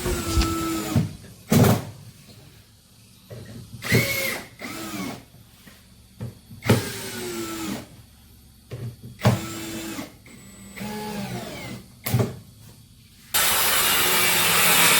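A power tool trims the excess edge off a plywood podium panel in a series of short, loud cutting bursts separated by pauses, ending with a longer steady roar.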